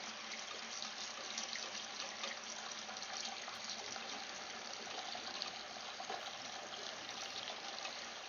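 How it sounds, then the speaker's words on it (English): Water runs steadily from a tap during an aquarium water change, a continuous close hiss and splash with no talking. "Gonna do a quick little water change here because I haven't done anything with this tank since last week."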